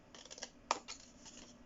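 Scissors snip through paper close by: a short run of quiet crisp cuts with one sharper louder snip in the middle, otherwise quiet.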